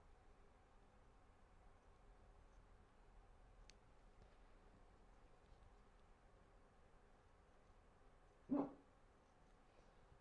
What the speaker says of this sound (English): the dog's decided that it's going to start barking